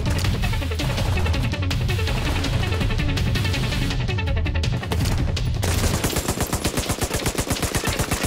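Gunfire in The Division 2 from a weapon firing on its own, a loud continuous automatic burst of rapid shots that shifts into a more distinctly spaced, rhythmic stutter of rounds near the end.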